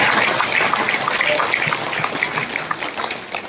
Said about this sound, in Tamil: நீங்கள் எல்லாம் இங்கே கைதட்டுக் கொண்டிருக்கிறீர்கள்